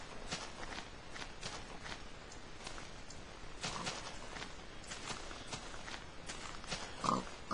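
A Minecraft pig moves about with faint, soft footstep-like shuffles and quiet grunts, low in level with no talk.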